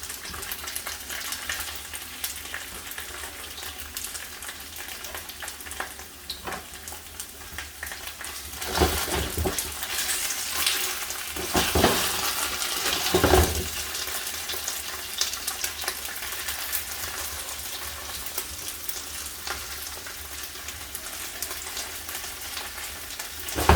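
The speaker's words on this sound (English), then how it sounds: "So when we do the stir-fry of tofu, we want to make sure that every side will nice and crispy." Tofu being stir-fried in a non-stick skillet until crispy on every side, a continuous close sizzle that swells louder for a few seconds midway as the pieces are stirred, with no talking.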